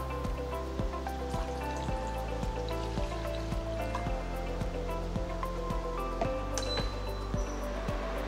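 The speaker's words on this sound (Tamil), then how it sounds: "முதல்ல ஒரு பாத்திரத்துல 200 மில்லி தண்ணீர் ஊத்திக்கலாம்." Water, 200 ml, being poured into a cooking pot for an herbal drink, a continuous close splashing trickle with a faint rhythmic tapping underneath, no talking.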